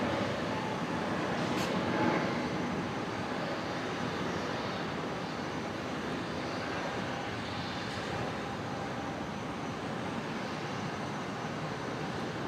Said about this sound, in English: This aircraft on screen, Jetstar's newest delivered aircraft. It's the first A320 Neo in the brand new livery.